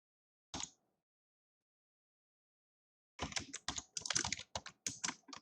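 Keys tapped on a computer keyboard: one short press, a pause of silence, then a quick, uneven burst of close, crisp keystrokes.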